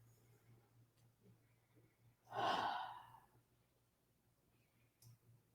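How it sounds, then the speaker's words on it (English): A single audible in-and-out breath, slow and fairly close, rising around the middle and fading, set against a quiet room with a faint steady hum; a deep breath taken together by a group in a talk on breathing. "take a deep breath"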